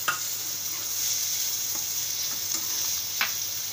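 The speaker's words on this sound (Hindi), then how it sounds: "बड़ी प्याज कटी हुई, इसको सौते करेंगे फास्ट आंच पे।" Chopped onion and capsicum sautéed in oil over high heat, a steady close sizzle with occasional stirring clicks of a utensil in the pan.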